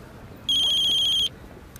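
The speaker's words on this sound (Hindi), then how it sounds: "लो, आ गया इनका फोन।" A phone ringtone plays one steady, bright electronic tone for just under a second, loud and close, over a quiet indoor room in a Hindi TV drama scene, with no talking.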